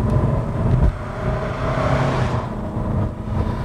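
A Fiat 500X with a 2.0-litre diesel engine and four-wheel drive pulls hard under full throttle, its engine droning steadily from inside the cabin as it gains speed, with road rumble underneath.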